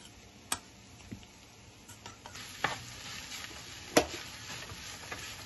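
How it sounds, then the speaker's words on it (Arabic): Fish being stirred gently with chermoula in a frying pan gives a quiet, steady sizzle, with soft scrapes and a few sharp clicks of utensil against the pan. "غادي نحركو غير بشويه باش ما يتفرتتليش بزاف، غير يتلبس بهذيك الشرموله"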